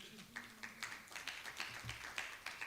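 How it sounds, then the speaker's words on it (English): A small audience at a Human Rights Day equality event claps for the timekeeper, a scattered patter of hand claps at moderate distance with a faint murmur beneath. "This gentleman, Laban, please clap for him."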